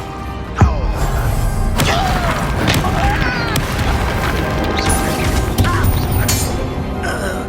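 The Bombarda explosion spell in the video game Hogwarts Legacy lands as several sharp crashing impacts and thuds spread through a busy in-game battle, with some faint voice in the mix.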